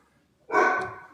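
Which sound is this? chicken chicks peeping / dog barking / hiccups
dog barking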